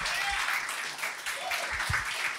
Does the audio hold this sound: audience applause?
yes